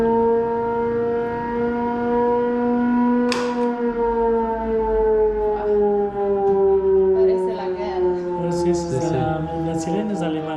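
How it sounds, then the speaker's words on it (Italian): A German World War II era work-shift siren at a site in Ecuador wails in a long, steady, slowly falling tone, loud and sustained across the whole stretch, with faint voices and background noise underneath. "la guida vuole farci sentire la sirena che scandiva i turni di lavoro, direttamente dalla Seconda Guerra Mondiale"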